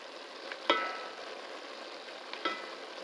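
Onion added to a chili pan, a soft steady sizzle and fry with a couple of light clinks from stirring, close by and quiet, with no voices.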